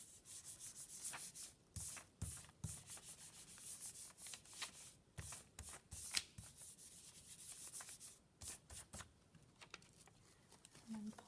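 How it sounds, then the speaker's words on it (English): Paper is rubbed by hand over a Gelli printing plate, close and dry, with irregular scratchy strokes and short pauses running throughout, and no talking. "I'm going to rub it again."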